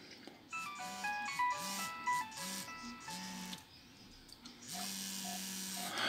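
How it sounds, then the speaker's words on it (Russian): A Nokia 6610 mobile phone plays a polyphonic ringtone: a bright, bouncy melody of short synthesized notes over a steady lower tone, heard close and clear for several seconds with no talking. "рингтоны. Nokia."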